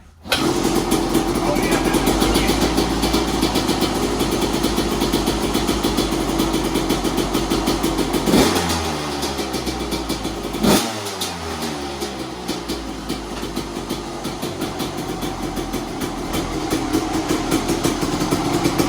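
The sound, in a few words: Husqvarna WR250 two-stroke dirt bike engine started on choke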